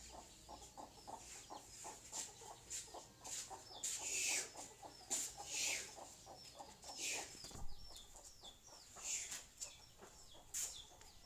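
Several chickens cluck in scattered, repeated bursts, some near and some farther off, with occasional louder squawks over a faint background, no speech.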